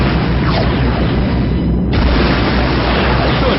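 A dense, roaring blast fills the space battle scene of a radio drama as transports are destroyed, a continuous loud rumble with a brief dip midway before surging again.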